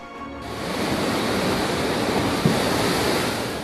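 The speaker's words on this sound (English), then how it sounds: "Strong waves from Cyclone Gulab swept across India's coastline with intense force." Strong waves from Cyclone Gulab pound the Indian coastline, producing a loud, continuous roar of surf and wind noise that swells in over the first half second and stays steady, with no voices.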